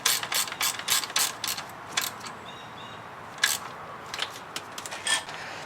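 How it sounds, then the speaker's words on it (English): A ratchet wrench clicks in quick bursts while tightening hold-down bolts for the wiring harness plugs on a 2000 Chrysler 300M engine during cylinder head replacement. The bursts are close and crisp, separated by short pauses and a faint metallic rattle. "I'm going to tighten these bolts that hold down the two main"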